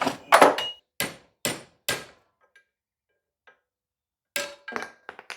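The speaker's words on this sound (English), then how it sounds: "I can hammer the rest out." Several sharp metallic hammer blows in an uneven series, hammering out a bushing during a 1984 Dodge Ram D150 front end rebuild, then a pause with faint taps, followed by another quick cluster of strikes, close and loud.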